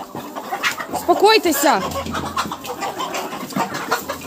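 Young roosters scuffle and cluck in a winter village yard, with a burst of harsh squawking calls up close among other poultry while someone speaks calmly over them.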